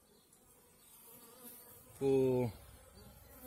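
Honeybees in a barrel hive hum as a low, soft buzz throughout, and a brief, louder, pitched drone swells for about half a second near the middle.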